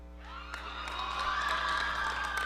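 An audience at the Mr RWU 2005 pageant breaks into cheering and clapping, the crowd noise swelling steadily and staying loud and dense to the end.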